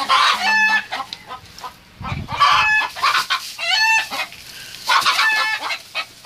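Hens in a poultry house cluck and squawk in bursts, loud and close, with a crow-like call among them and no speech over the birds.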